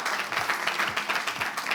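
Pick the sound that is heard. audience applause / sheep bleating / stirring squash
audience applause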